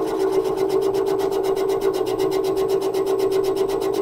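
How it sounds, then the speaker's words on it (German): A boring machine cuts into a steel bearing bore with a steady, even grinding hum and rapid rhythmic chatter, continuous and close throughout. "jetzt hört man halt eben, dass er schon bohrt"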